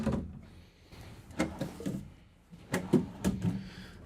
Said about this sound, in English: as I'm opening these drawers, full extension drawer glides